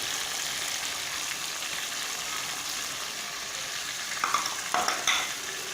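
Red chili powder, turmeric and salt stirred as they fry in a pan, giving a steady soft sizzle throughout with a few brief scraping stirs near the end, close by and moderately quiet, no voices.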